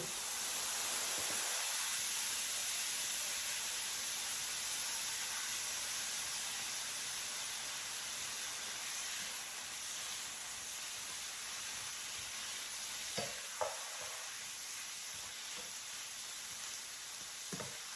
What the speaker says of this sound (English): I'm going to go ahead and add the shrimp in here. And I'm going to use the shrimp juice too.